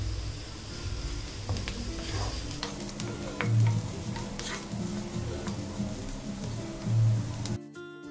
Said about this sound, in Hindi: अब इसमें 1/4 छोटा चम्मच हल्दी पाउडर डालें और अच्छी तरह से मिलाएं।